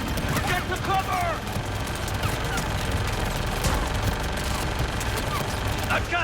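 Dense battlefield gunfire from the sci-fi shooter Mass Effect 3, with overlapping shots, bursts and booms in a continuous chaotic mix, mixed under shouted voices.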